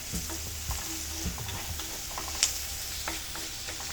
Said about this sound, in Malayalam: ഇനി നമുക്ക് നല്ലോണം കുറച്ച് കറിവേപ്പില ഇട്ട് കൊടുക്കാം.